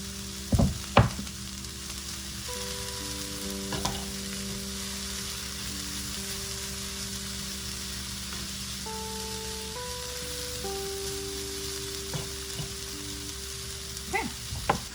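Sausage frying with zucchini in a skillet, a steady crackling sizzle throughout with a few louder spatters and utensil knocks near the start and end, while sustained tonal hums sit underneath.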